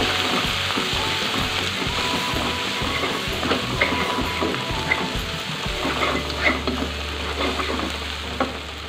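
A ground spice paste is stirred and sautéed in a hot pan, giving a steady close sizzle with scraping stir strokes throughout and a low hum that joins in partway, with no talking.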